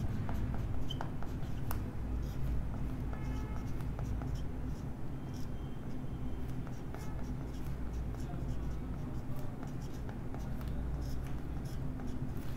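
Marker or chalk scratches and taps on a board during a chemistry lecture on redox reactions, faint scattered strokes over a steady room hum with quiet background noise.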